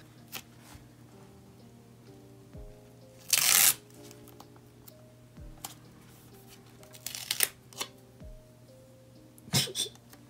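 Stickers by a Thai artist are peeled off a sheet, giving a few scattered crackly rips and light rustles over a quiet room hum, with one louder tearing burst.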